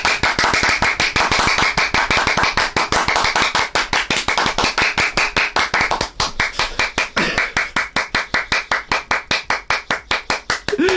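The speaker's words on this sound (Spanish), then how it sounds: "¡José, aplaude!" One person claps by hand on request, a long string of sharp, close, loud claps in a quick, fairly even rhythm that slows slightly near the end, with no talking over it.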